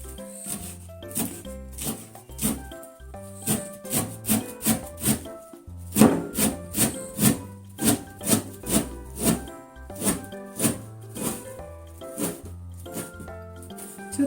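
A knife shreds worm-eaten shiso (perilla) leaves on a cutting board in quick, rhythmic scraping strokes, each a short crisp rasp repeating about twice a second, close up over soft background music.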